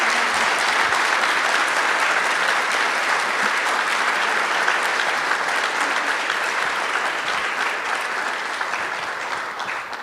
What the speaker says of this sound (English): Why don't we give Neel a big round of applause?